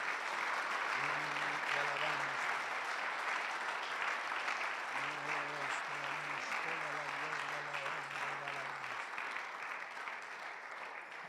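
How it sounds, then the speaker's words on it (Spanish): A congregation applauds in church at a regional rally, a soft, steady patter of many hands with a voice sounding over it, fading slightly toward the end. "Vamos a darle un fuerte aplauso a Cristo Jesús."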